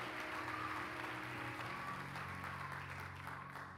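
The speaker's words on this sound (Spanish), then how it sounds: "El que lo crea, dele un aplauso a él." Congregation applause at a Sunday church service, a steady continuous wash of clapping under sustained organ or keyboard tones, moderately distant and even in level throughout.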